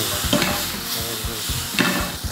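Yanagi mushrooms fry in a pan with a splash of soy sauce, producing a loud, close, crackling sizzle broken by repeated scraping strokes of a spatula.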